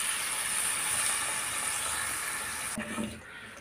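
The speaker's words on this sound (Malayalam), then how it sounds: "ഇതിലേക്ക് നമുക്ക് ആവശ്യത്തിന് വിനാഗിരി ഒഴിച്ചു കൊടുക്കാം." Vinegar poured into beetroot pickle in a hot pan gives a steady, fairly soft hissing sizzle that cuts off sharply after about three seconds, with no talking.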